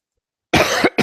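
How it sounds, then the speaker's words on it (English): Two quick, harsh coughs from a person, the first longer and the second cut short, close and loud after silence. "sorry about the coughing"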